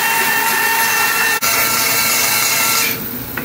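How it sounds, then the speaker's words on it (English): A bandsaw cuts plywood ramp pieces, a loud continuous buzzing rasp of the blade through the wood with one brief dip in the middle, then the cut eases off near the end. "Now we're going to cut the shape on the bandsaw."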